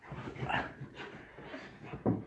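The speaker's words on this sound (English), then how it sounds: "My dog just jumped in my stomach" A dog whimpers and pants close by after jumping, with soft breathy huffs and a couple of short whiny yelps, the last one sharper and louder.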